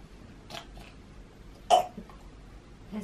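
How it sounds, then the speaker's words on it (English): A baby boy coughs several times, with a few short, separated bursts and one louder hacking cough near the middle, set against quiet room noise. "This is how he coughs, it's quite bad."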